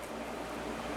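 Steady electric fan whooshing in the background of an indoor room, a faint, even broadband hiss with no talking over it.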